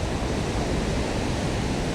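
Huka Falls on the river in New Zealand roars as heavy water rushes through, a dense, continuous broadband wash with no pauses, loud and close.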